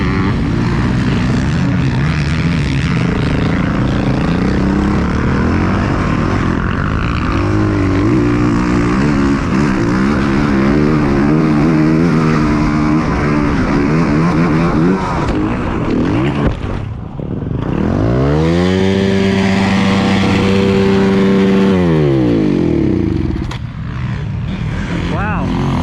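Dirt bike engine revving and droning loud and close on the Mammoth motocross track, with rising and falling pitch sweeps as the rider shifts and accelerates, broken by a brief dip before the engine winds up again.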